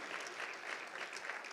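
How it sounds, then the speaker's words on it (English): Audience applause at an in-person public policy panel on land use and housing in the District, a steady wash of clapping filling the room throughout, fairly even and moderately loud with no break. "but you got the applause"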